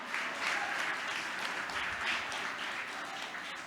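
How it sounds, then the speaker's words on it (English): Applause for a donor at a charity gala, a crowd clapping steadily and fairly far off, a dense patter lasting the whole stretch without letting up. "So give Margaret a round of applause."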